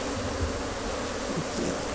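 Honeybees swarm at a beehive with a dense, continuous buzzing drone, steady and close, with no one talking over it.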